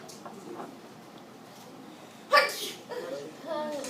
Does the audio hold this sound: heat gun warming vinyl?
no